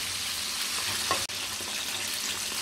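Pieces of bone-in chicken bubble in deep hot oil with a steady close sizzle, one brief clack of a utensil partway through, and otherwise unbroken frying hiss without speech.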